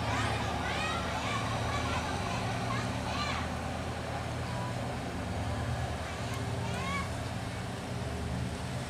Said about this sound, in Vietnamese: anh ấy đang chuẩn bị lên ga. Tiếng máy gá ghê gớm không.